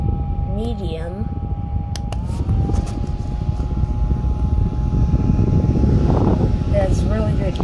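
A small portable misting fan and humidifier runs on medium speed, giving a steady, close, whirring rush of air with a constant hum throughout, while a person talks over it.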